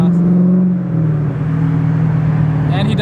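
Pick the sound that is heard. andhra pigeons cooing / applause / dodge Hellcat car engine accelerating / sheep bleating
dodge Hellcat car engine accelerating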